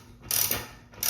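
An 11mm wrench ratchets briefly while tightening a toilet bolt during a toilet installation, two close, crisp bursts of clicking metallic mechanism.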